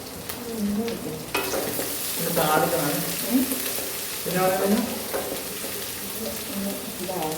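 Mustard seeds and dried red chillies spluttering in hot oil for a Kerala clam meat fry, a steady close sizzle with crackling bursts, while people talk intermittently over it.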